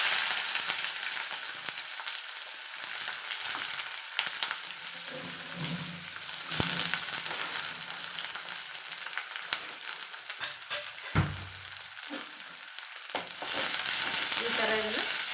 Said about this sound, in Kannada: ಸಾಸಿವೆ ಕಾಳು ಚಟ ಚಟ ಅಂದು ನಾನಿವಾಗ ಏನು ಮಾಡ್ತೀನಿ, 1 ಎಸಳು ಕರಿಬೇವನ್ನು ಹಾಕ್ತೇನೆ